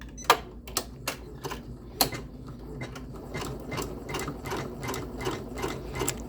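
A Janome MB-4/MB-7 embroidery machine starts stitching, a few separate mechanical thumps giving way to a steady rapid run of needle strikes, close and loud with no voices.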